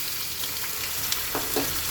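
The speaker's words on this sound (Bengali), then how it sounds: "কড়াইয়ের মধ্যে আমি পেঁয়াজ কুচোটা দিয়ে দেবো।" Chopped onion sizzling in a small amount of mustard oil in a kadai while cooking mutton curry, a steady close hiss with a couple of brief stirring bursts near the end.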